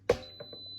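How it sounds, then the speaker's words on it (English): A short electronic beep from an Instant Pot pressure cooker as its countdown reaches zero, followed by a thin, steady high tone and a couple of faint soft clicks. "there's always a beep. There's a signal to let you know that's happened."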